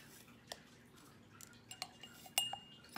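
A spoon clinks faintly against a jar and utensils while scooping dried onions in, a few light taps and chinks spaced irregularly in a quiet room.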